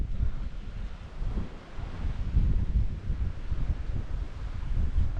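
Wind buffets a sailing boat off the Norwegian coast, a continuous rumbling gust noise with the faint wash of water beneath, no voices.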